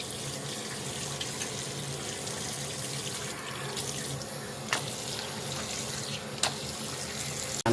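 A bathroom tap runs steadily into a sink while dentures are rinsed in their container. The constant close splash of water is broken by a few faint clicks and knocks of the container.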